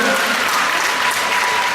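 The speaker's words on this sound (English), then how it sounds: "How about another round of applause for these 5 young ladies?" An audience at a Tahitian dance contest applauds in a loud, dense, sustained burst of clapping that carries on evenly for the whole moment.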